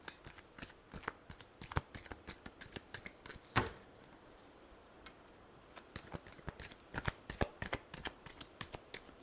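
Tarot cards shuffled by hand close up, a quick run of crisp riffling flicks and soft slaps repeating steadily, quiet and without talking.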